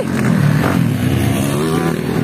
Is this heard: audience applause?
no